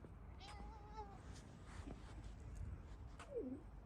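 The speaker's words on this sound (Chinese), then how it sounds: "安朵，你看看人家小猫，你看人家小猫都给碰，你都不给碰。" A stray cat meows twice: a drawn-out, clear meow near the start and a shorter, rougher one near the end, at moderate distance over faint outdoor ambience.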